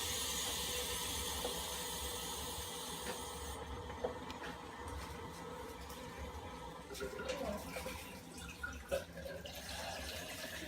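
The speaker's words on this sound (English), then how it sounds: "So let's go ahead and run the water now." Steady running water from the hoses of an Enagic SD501 Kangen water machine hisses and splashes continuously into a cup, with occasional small drips and clinks rising above the flow.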